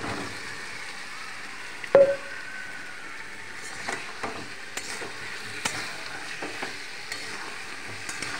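Potatoes sizzling in a spice mix in a pan for cashew and moong dal aloo dum, a steady frying hiss with a sharp clatter early on and occasional light scrapes of stirring, close by.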